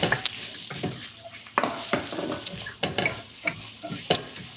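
Wilting spinach and chopped parsley sizzle in a pan while being stirred, the utensil scraping in short repeated strokes over a low crackle of frying, close and fairly loud.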